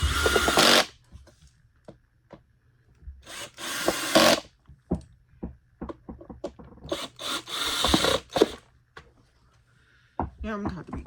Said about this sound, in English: And then you screw them on with the drill.